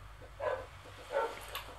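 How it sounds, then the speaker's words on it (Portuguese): Two short barks from a mutt character in Crossy Road, spaced about a second apart over a low game hum, with a faint chirp after, fairly quiet. "Acho que é um cachorro. Cachorro vira lata!"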